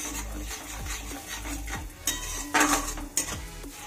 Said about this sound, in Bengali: এবার পেঁয়াজ আর রসুনটাকেও তেলের সাথে খুব সুন্দরভাবে